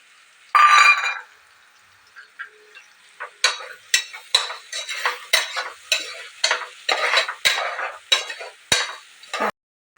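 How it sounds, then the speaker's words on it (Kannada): Onions with curry leaves are stirred and fried in a pan for a peas rice dish: a short burst of sizzle, then a steady rhythm of close spoon scrapes and stirs, with no talking. "ಈರುಳ್ಳಿ ಚೆನ್ನಾಗಿ ಫ್ರೈ ಆಗಲಿ ಅಂತ ಚೆನ್ನಾಗಿ ಮಿಕ್ಸ್ ಮಾಡ್ಕೊಳ್ತೀನಿ"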